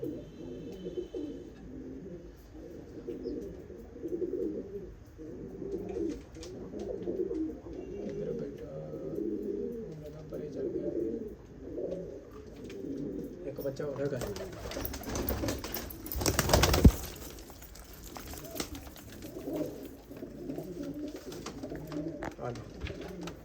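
Low, rolling coos from Teddy pigeons repeat steadily under a man's speech, followed by a burst of louder noise and clattering.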